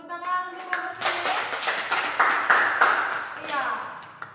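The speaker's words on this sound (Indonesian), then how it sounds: "Tepuk tangan untuk kelompok ini." Classroom applause for a student group in an Indonesian eighth-grade lesson, with a burst of hand clapping and taps that swells and continues for several seconds, mixed with voices and chatter from the students.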